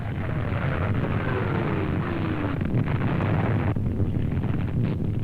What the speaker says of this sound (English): amidst the din of a Canadian artillery barrage, they watch the Battle of San Vito in progress